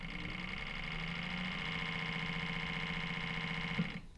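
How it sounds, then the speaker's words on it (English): An Enerpac E-Pulse electric hydraulic pump runs at low motor speed with a steady, even mechanical whine and hum that holds for several seconds before a slight bump at the end. "So here I'll show you running at a lower speed."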